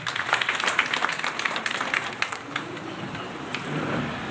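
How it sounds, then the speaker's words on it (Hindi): Crowd clapping at an Indian election rally for the Sindhi community, a dense crackling patter of many hands that is loudest at first and then fades into general murmur. "जोरदार तालियां हो जाएं।"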